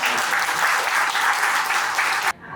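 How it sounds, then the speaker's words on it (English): Conference audience clapping in a steady, dense round of applause that cuts off abruptly near the end. "Big round of applause to them."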